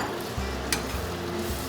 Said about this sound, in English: So I'll pop those into the saute pan over here. Hear that sizzle, nice and hot.